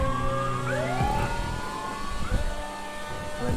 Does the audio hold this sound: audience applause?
no